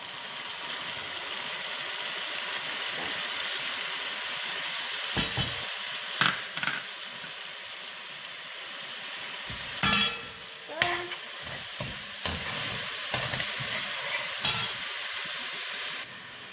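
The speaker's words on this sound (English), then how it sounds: "I'm adding some olive oil. And of course this is for flavor. And now I can add my sofrito." Sofrito sizzles and fries in olive oil and achiote oil for Puerto Rican yellow rice with ham, a steady close hiss broken by scraping stirs and clinks of the spoon in the pot, with no talking.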